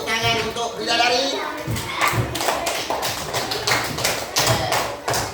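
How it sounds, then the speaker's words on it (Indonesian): Classroom applause for a student cooking group's presentation, with a burst of clapping and scattered taps and thumps mixed with voices talking over it. "kasih tepuk tangan untuk bidadari"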